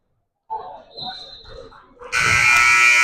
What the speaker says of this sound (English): And the buzzer sounds 68-64.